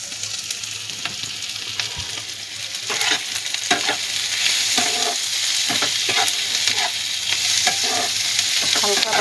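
Paneer and green chillies fry in a pan, a close, steady sizzle that grows louder partway through, with repeated clinks and scrapes of stirring.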